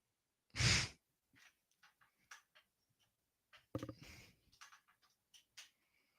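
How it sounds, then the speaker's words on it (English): A single loud breathy exhale like a yawn or sigh from someone at a World Series Game 1 watch party, followed by soft scattered clicks and small rustles in an otherwise quiet room. "I'm yawning already"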